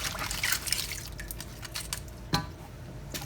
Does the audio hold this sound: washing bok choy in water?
yes